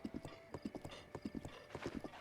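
Horse in Zelda Breath of the Wild, rapid rhythmic clip-clop of hooves at a trot with a short whinny mixed in, fairly quiet and steady.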